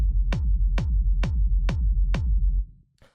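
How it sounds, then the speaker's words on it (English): A hard-hitting, rumbly techno kick drum at 132 BPM, five booming hits with deep sustained low-end rumble between them, loud and alone, fading out at the end. "the first sound we have here is the kick, which sounds like this"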